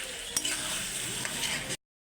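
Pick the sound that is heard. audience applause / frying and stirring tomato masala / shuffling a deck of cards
frying and stirring tomato masala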